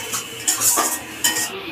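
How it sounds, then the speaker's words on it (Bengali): A metal spoon scrapes and clinks against a pan while spice mix for a potato and pointed gourd curry is stirred and sautéed, a few close, distinct strokes. "মশলাটাকে ভালো করে কষে নেব।"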